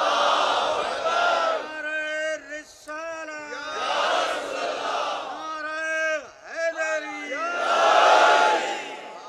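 A crowd at a majlis gathering answers a takbir call with loud, rhythmic collective chanting in repeated surging bursts, separated by a lone voice leading each call.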